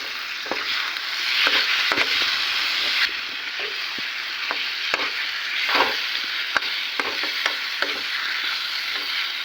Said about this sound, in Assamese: অলপ সময় মাংসখিনি ভাজি ল'ম গোটেই মছলাখিনিৰ লগত